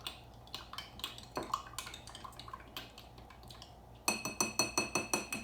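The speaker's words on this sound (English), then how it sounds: "All right. Stir it up again." A spoon clinks against a glass while an apple cider vinegar drink with baking soda and lemon juice is stirred. Soft scraping and swirling comes first, then a run of evenly spaced bright taps, quiet and close.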